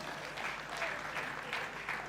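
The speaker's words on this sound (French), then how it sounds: "Vos applaudissements pour lui." Guests at a wedding reception break into sustained applause, a dense crowd of clapping hands holding steady with slight swells, heard alone without voices.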